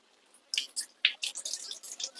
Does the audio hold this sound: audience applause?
no